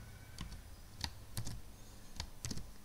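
C code being typed on a computer keyboard: sparse, separate key clicks at irregular intervals, fairly quiet over a low background hum.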